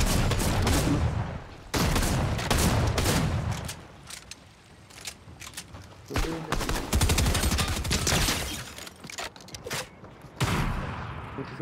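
Bursts of rapid video game gunfire crackle in loud volleys with short gaps between them, sounding like automatic weapons in a firefight.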